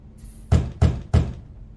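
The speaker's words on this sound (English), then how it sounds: "How polite of you to knock." Three firm knocks on a door in a The Wolf Among Us game scene, evenly spaced and close, each a solid thud ringing briefly, preceded by a faint high hiss.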